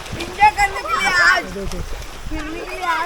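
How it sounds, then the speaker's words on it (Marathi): Children splash and bathe in a stream in rural Konkan during the monsoon, with sloshing water and a few sharp splashes running under steady talk. "पोरं बघा कशी आंघोळ करतात मजा करतात"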